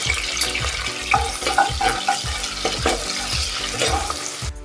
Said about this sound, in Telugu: అల్లం వెల్లుల్లి పేస్ట్ బాగా వేగాలి